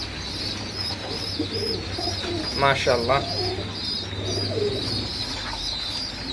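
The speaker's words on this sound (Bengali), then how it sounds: "সব কবুতরগুলো তাদের বাচ্চাদের বা বেবিগুলোকে খাবার দিচ্ছে" Pigeons coo softly and steadily while feeding their chicks, with a brief burst of chirping in the middle, over a constant hum on a rainy day; one person speaks briefly.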